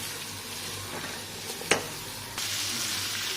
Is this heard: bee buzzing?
no